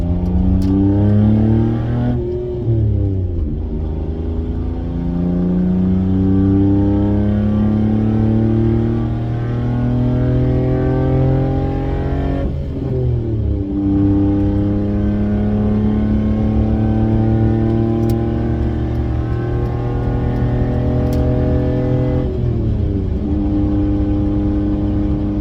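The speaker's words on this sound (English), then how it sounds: "Sometimes the RPMs drop smoothly, and sometimes they definitely do not." Chevy engine droning steadily from inside the car while driving, loud and continuous, with its revs rising and falling several times in smooth sweeps and occasional abrupt drops.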